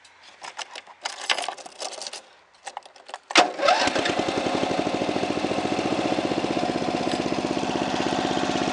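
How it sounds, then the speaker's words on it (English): A few clicks and rattles, then a tractor mower engine cranks and catches, settling into a steady, throbbing idle that runs on loudly. "How to turn on a tractor lawnmower."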